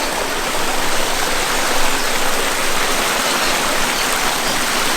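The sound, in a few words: waterfall in garden water feature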